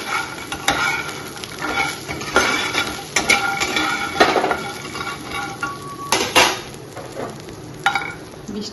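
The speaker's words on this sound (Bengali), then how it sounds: "আর দিয়ে লাউয়ের বড়ি ভাজা হচ্ছে।" Bottle gourd lentil dumplings (bori) sizzle in a pan beside a simmering pot, with repeated stirring scrapes and light clinks of a utensil against metal, close by and without talk.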